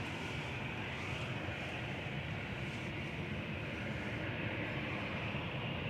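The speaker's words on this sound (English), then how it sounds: "EasyJet 2059 to Athens there, GEZWX departing" An EasyJet airliner departs Manchester Airport with a steady, loud jet engine roar that holds constant throughout, broad and continuous with no voices over it.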